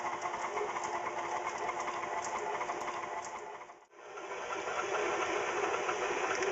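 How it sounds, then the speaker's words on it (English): Electric mixer creaming cream cheese for buffalo chicken dip, a steady loud motor whir running throughout, briefly dipping near the middle before resuming. "Now we're going to cream it up really good in the mixer for just about a minute or so."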